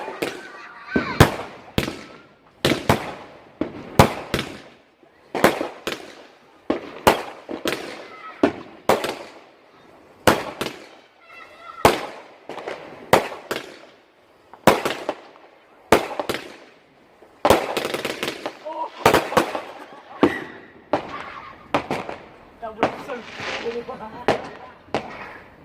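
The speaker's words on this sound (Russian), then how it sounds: "Ну вот такой был у нас салют." Small backyard bonfire night fireworks going off in a rapid string of loud cracks and bangs, some crackling bursts overlapping, close by, with people talking faintly between the explosions.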